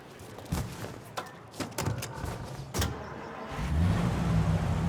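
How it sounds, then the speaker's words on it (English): A car driven in the video game Mafia: Definitive Edition, heard as a close engine rumble with door and mechanical thumps early on, then a steadier low engine drone building toward the end, with no talk. "Are you driving or loitering? Driving, ma'am. Always driving."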